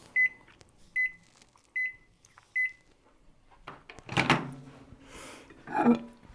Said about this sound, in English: In between every melting in the microwave, it's always a good idea to pull it out